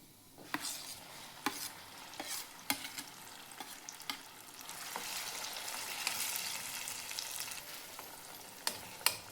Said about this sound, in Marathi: वाटण तेलामध्ये भाजून घ्यायचंय.